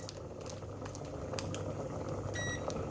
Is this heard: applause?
no